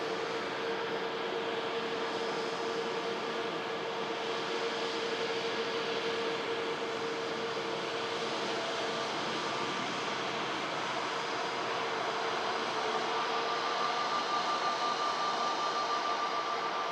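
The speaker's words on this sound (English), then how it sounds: "Using a lot of runway. TUI Dreamliner." A TUI Boeing Dreamliner jet takes off down the runway at Manchester Airport, a continuous broad engine roar heard from a distance that holds steady and swells slightly toward the end, with no voices.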